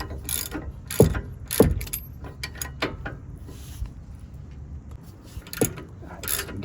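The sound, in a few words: tightening bolts on Ram 1500 rear brakes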